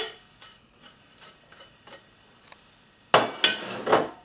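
Sauce gribiche with chopped parsley, chervil, chives and tarragon stirred in a bowl, light rhythmic taps of a utensil, then several louder scraping clinks against the bowl near the end, with no talk.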